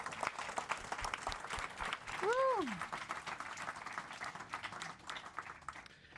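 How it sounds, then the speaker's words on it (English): An audience in an event room at a Startup World Cup regional competition bursts into applause, with clapping, a cheer and crowd noise spread through the room. "let's make a big round of applause to let us hear us."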